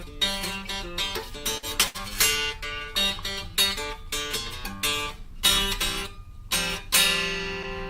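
'51 Telecaster electric guitar played close with bright, ringing notes and chords, strummed and picked in quick phrases that sustain and shimmer between strokes.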